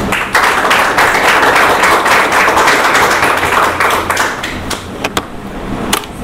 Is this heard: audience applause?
yes